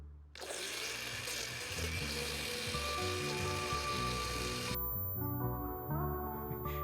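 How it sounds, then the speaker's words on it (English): A kitchen blender pulses a chunky salsa of chipotle peppers in adobo sauce, a loud steady motor whir with a dense broadband roar that holds for several seconds, then shifts pitch as it runs on. "give it a couple of pulses of blending just to integrate the flavor"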